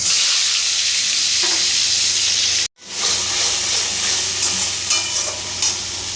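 Chopped spinach sizzles loudly as it fries in a pan with black cumin, a steady broadband hiss running throughout, broken by a brief dropout midway before the frying noise resumes.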